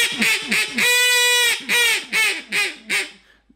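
A blue-winged teal duck call blown as hard as possible gives loud, raspy quacks up close: several short honks, one long drawn-out blast, then a descending string of separate calls.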